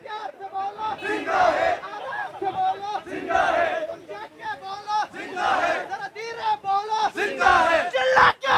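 A protest crowd on a street in Islamabad chants slogans in rhythmic unison, with loud repeated call-and-response bursts that rise and fall over roughly eight seconds.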